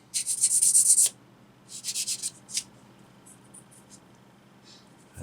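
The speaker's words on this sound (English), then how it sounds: "That is that piece sanded and ready" Fine-grade abrasive rasps against a small plastic engine part for an ICM 1/35 Model T 1917 ambulance: one loud, hissy second-long stroke, then a few shorter, softer scrubbing passes and quiet gaps.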